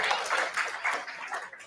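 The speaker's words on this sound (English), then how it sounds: "Give your friend a round of applause" Classmates give a student a round of applause in a school English lesson, a steady patter of many hands clapping at moderate volume, with some talk mixed in.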